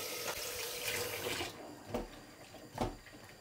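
Water runs from a kitchen tap while dried anchovies are soaked, a steady faint splashing stream that stops partway, followed by a couple of soft clinks and splashes.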